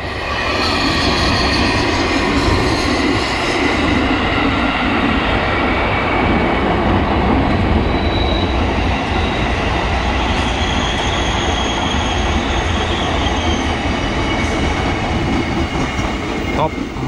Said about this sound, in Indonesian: Ini kereta KRL kalau yang lewat jalur 1 ngebut-ngebut nih.